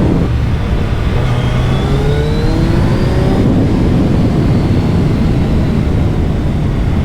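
A 2022 Suzuki Hayabusa motorcycle accelerates hard from second gear, its engine note climbing in pitch through the revs and then settling into a loud, steady roar with heavy wind rush.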